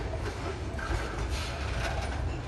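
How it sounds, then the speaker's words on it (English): A Norfolk Southern freight train rolls past close by, its cars giving a continuous heavy low rumble over jointed rails, with faint irregular clanks and rattles from loose cars layered on top. "One of those cars is kind of clanking along."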